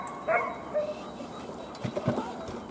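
A dog gives faint whimpers and short yips among quiet background sounds during a search exercise on rubble, with people speaking softly nearby.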